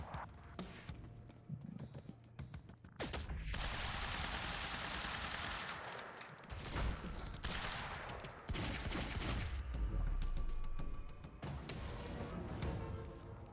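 Rapid bursts of gunfire from a Quantum Break firefight come in loud, sustained stretches broken by short pauses and sharper single cracks, with no voices.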